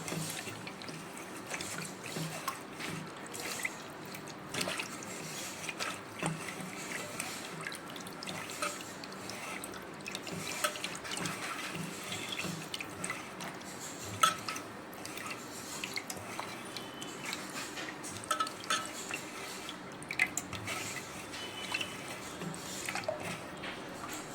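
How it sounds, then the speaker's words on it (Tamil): Flour being stirred into water in a home kitchen, giving soft, steady wet swishing and dripping sounds with small squelches, close by, with no talking. "இவ்வளோ மாவு எடுத்து போட்டு நம்ம தண்ணியில் கரைச்சிக்கிறோம்."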